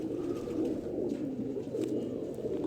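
Low, soft cooing of migratory pigeons runs continuously, a gentle murmuring burble heard close by.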